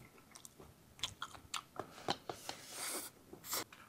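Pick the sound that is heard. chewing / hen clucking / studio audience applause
chewing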